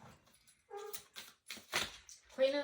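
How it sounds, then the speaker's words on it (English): A pet dog barking and yipping indoors, a series of short sharp barks in uneven bursts, fairly close, growing louder toward the end. "And now my dog's barking."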